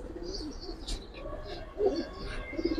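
Giribaz pigeons in a pigeon collection coo softly and repeatedly nearby, low throaty calls rising and falling over a faint background hum, with no speech.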